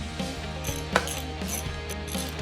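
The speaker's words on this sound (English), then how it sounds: "Loosen these 4 bolts. I didn't take them out, I just loosened them." A ratchet wrench loosens the axle clamp bolts on a dirt bike fork, with rapid close clicking and a continuous mechanical ticking and one sharper knock partway through.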